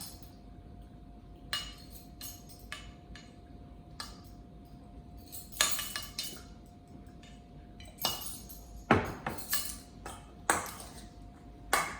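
Corn salad being mixed with utensils in a bowl makes bright clinks and scrapes in irregular bursts, some close and sharp, over a quiet background with a faint steady hum.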